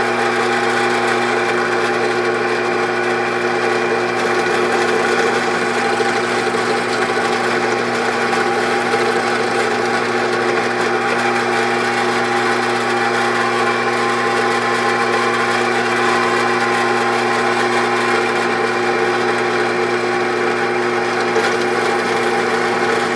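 A drill bores a 3/16-inch hole through half-inch by 2.5-inch wood pieces, giving a steady, continuous machine whir that stays loud and close for over twenty seconds without a break.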